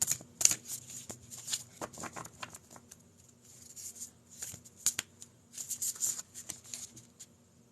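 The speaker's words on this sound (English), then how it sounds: "She's trying to throw all the cards." Playing cards riffle and slap down in quick, uneven bursts, close and fairly quiet, with brief pauses between the flurries.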